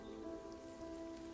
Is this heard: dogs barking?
no